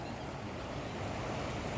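Floodwater of the swollen Ganga river rolls against a ghat at Haridwar, a steady, close, full rushing wash of waves and churning water with no voices over it.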